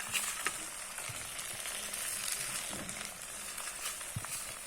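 Fenugreek seeds fry in homemade coconut oil while being stirred, a steady close sizzle and crackle broken by scattered pops and scraping taps, with no talking.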